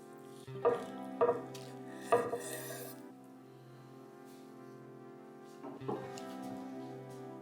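Knife chopping through smoked beef ribs on a board: three crisp chops in quick succession, a pause, then one more, over a soft, steady tonal background.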